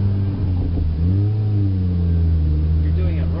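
A manual-transmission car engine revs steadily while the clutch slips during a gear change, producing a sustained, rising-then-level drone close by, with a voice talking over it.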